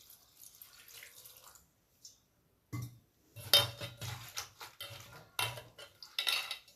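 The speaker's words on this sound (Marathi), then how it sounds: "ही जी पाने आहेत ती व्यवस्थित धुवून घ्यायची आहेत" Chopped spinach leaves are washed by hand in a bowl of water. Quiet, close splashes and light clinks of the bowl come in irregular bursts separated by short silences.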